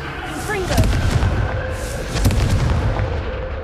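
Repeated fiery spell blasts from Hogwarts Legacy, two heavy booming explosions about a second and a half apart with crackling tails, set against game ambience, no voices.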